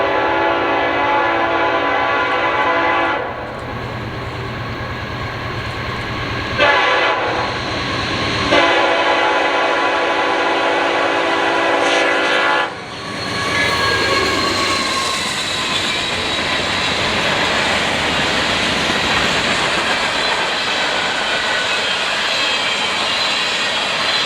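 CSX freight train M429 heading west toward Detroit sounds long, loud horn blasts, then its engines and cars rumble past up close in a sustained heavy roar.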